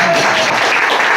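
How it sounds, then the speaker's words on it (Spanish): An audience in a bar applauds in a brief, loud burst of dense clapping, with some voices mixed in. "aplaudan por favor"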